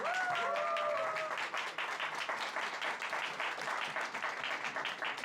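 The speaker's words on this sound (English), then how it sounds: "a round of applause to Marco Guarracino" Applause from a conference audience welcoming an affiliate marketing speaker, a steady dense roar of many hands clapping that holds for several seconds, loud and sustained.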